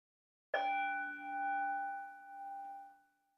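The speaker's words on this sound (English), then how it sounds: "Listen to the bell." A meditation bell is struck once and rings out alone, a clear metallic strike followed by a sustained, slowly pulsing hum that fades over about three seconds in a quiet mindfulness session.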